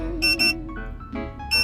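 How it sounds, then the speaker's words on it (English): A Konnwei KW206 OBDII scanner plugged into a 2004-era first-generation Kia Picanto sounds its RPM alarm as the engine passes 1000 RPM, giving loud electronic beeps in quick pairs over a low engine hum. "You will hear the alarm when you exceed 1000 RPM."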